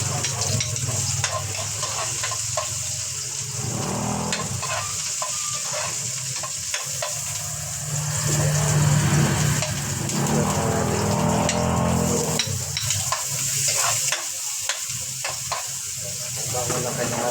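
Garlic, onion and soy sauce sautéing in oil in a pan, a continuous loud sizzle and steamy hiss with scraping stirs coming and going, a brief voice audible near the start.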